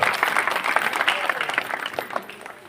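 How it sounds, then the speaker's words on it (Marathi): Steady applause from an audience at a Buddhist Dhamma scripture-reading closing ceremony, many hands clapping together, fairly close and sustained before thinning out toward the end. "आपण जरा स्वागत करूया टाळ्या वाजवून"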